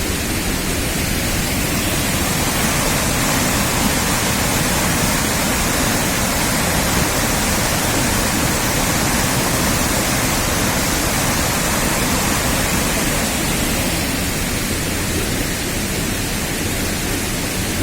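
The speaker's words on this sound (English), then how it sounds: "that's a fair bit of rainwater coming down there." A rainwater stream rushes down a hillside near Tobermory in Scotland, a dense, unbroken roar of water that holds steady and loud throughout with no voices.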